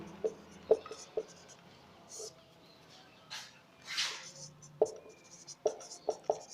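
Teacher writing notes, with clusters of short tapping and scratching strokes at the start and end, a soft breathy rustle in the middle, close and fairly quiet with some speech present.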